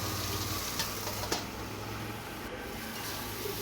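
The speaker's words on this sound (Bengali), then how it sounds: "আর একটু আরেকটু নাড়াচাড়া করা করে ভাজা ভাজা করে নামিয়ে দেব" Vegetables are stirred and fried in a pan on a village kitchen fire, giving a faint, steady sizzle with a few soft scraping stirs.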